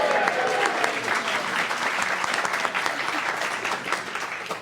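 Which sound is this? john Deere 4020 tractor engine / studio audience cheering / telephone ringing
studio audience cheering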